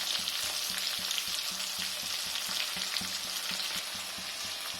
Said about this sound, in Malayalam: അപ്പോൾ ഇനി ഇത് നമുക്ക് ഒരു മീഡിയം ഫ്ലെയിമിൽ വെച്ചിട്ട് പയ്യെ ഫ്രൈ ചെയ്തെടുക്കാം.